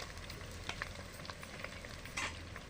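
Chili, onion and ginger-garlic frying in a pan for Telangana-style mutton fry, a soft continuous sizzle with occasional crackles and scraping stirs, fairly quiet and close with no talk.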